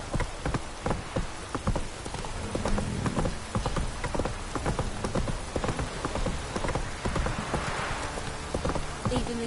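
Horse hooves clip-clopping in a video game, an uneven, close series of hoof knocks over a soft hiss of steady rain.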